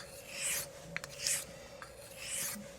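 A straight razor is honed on a Belgian Coticule stone, three slow, soft scraping strokes, quiet and close, with no talking.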